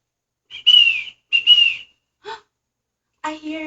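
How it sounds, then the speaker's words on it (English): Short whistles sound close and clear, two bright high tones followed by a brief pause, then shorter bursts toward the end, with a voice briefly heard. "I hear a whistle."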